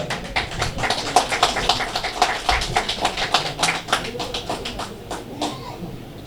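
Audience at an indoor ceremony honouring guests claps in a steady burst of applause, fairly close and lively, tapering off near the end.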